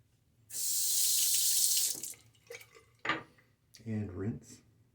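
Tap water runs steadily into a sink as a safety razor is rinsed during a wet shave, a loud continuous gush for about a second and a half, followed by a few brief splashes and clinks and a short stretch of talk.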